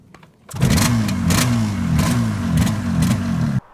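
Yamaha RD350 motorcycle engine firing up after a brief quiet start, then a loud, close, rhythmic two-stroke burble with repeated revs until it cuts off abruptly near the end.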